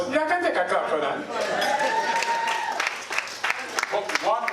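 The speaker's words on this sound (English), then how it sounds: "I can take a clap for that." Audience at a school keynote talk breaks into scattered clapping and chuckles that swell and fade, mixed with chatter and a voice speaking over it.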